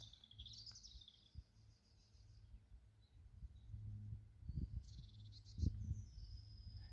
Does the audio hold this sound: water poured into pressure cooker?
no